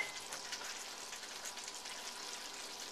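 Green onions stir frying in a pan give off a faint, steady sizzle with a soft crackle, continuing quietly with no voices.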